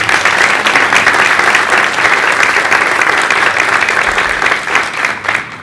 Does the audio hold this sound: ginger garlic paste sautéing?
no